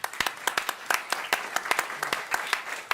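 Audience applause at a panel event on regenerative food systems, a steady burst of many hands clapping from a crowd, fairly close and continuous for a few seconds with no talking.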